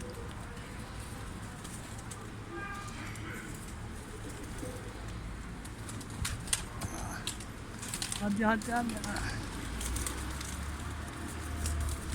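Pigeons outdoors, including a flying breed from Mardin, with soft cooing and wing flutters amid steady background noise while someone talks and calls out.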